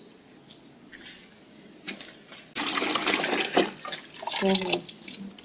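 A bucket being rinsed with water at a home after rain in Karachi, with splashing, sloshing and dripping that grows louder partway through. Soft voices talk in the background.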